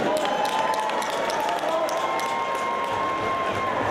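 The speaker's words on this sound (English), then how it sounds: "Round of applause for both these fighters" Applause and crowd noise fill the hall after an amateur Muay Thai bout that went the full three rounds, a steady, dense wash of clapping that holds throughout with a faint tonal hum beneath.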